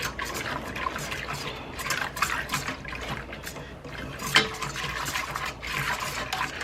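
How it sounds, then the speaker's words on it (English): Stirring a yeast mixture for sandwich bread, a continuous soft swirling of liquid with faint utensil scrapes against the bowl and one brief clink, steady and close. "I'm going to kind of stir that around just a little bit."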